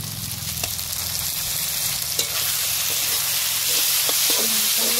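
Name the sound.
ginger garlic paste frying with onion greens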